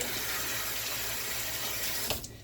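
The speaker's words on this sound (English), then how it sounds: "now let me rinse my hand real quick" A hand rinsed under a running kitchen tap, a steady close rush of water that cuts off abruptly near the end.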